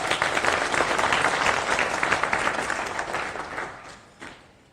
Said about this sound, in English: Okay, a big clap for South Africa.